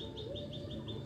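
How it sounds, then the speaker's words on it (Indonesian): Birds chirp and sing in a steady outdoor chorus, with repeated high calls recurring over a low background murmur. "Jadi burung masih banyak sekali. Dengarkan suaranya."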